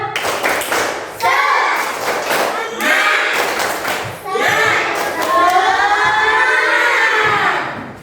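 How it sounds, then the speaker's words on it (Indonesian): A class of children performs the rhythmic Indonesian spirit clap, tepuk semangat, with loud patterned claps and thumps mixed with their chanting voices. "Kita tepuk semangat dulu yuk."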